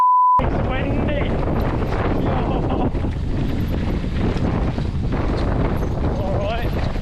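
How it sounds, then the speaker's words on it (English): Loud, constant wind buffeting a microphone outdoors in wet weather at a mountain bike enduro training session, roaring throughout with a voice speaking underneath. "Bit wet, but it's windy."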